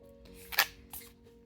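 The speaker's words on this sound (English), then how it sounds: "But that's not the only way I like to shuffle the deck" A tarot deck is shuffled by hand in a quiet room, a soft close riffle with a sharper papery burst in the middle and a second lighter flutter after it.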